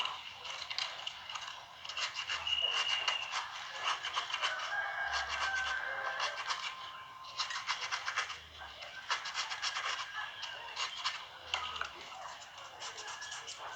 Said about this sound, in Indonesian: Ini pakai kertas gosok halus ya